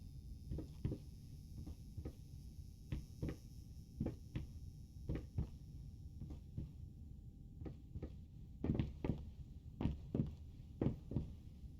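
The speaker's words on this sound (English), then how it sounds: "Who walks like the sound of a heartbeat?" Heartbeat in the horror video game Layers of Fear: paired low thumps repeating steadily and close, growing heavier and more frequent toward the end, over a dim ambient hum with no talk.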